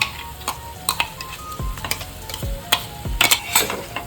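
Tomato and ginger-garlic paste sizzle and fry in a pan for prawn biryani, with a spoon stirring in short scraping strokes and clicks against the pan, close and fairly loud.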